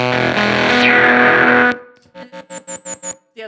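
Chase Bliss and ZVex Bliss Factory effects pedal preset on an instrument: a loud, sustained, heavily distorted fuzzy chord that cuts off, followed by a run of rhythmic, evenly spaced stuttering pulses with a ringing high edge.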